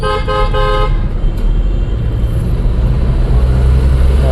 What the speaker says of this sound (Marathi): चला हॉर्न द्यायला.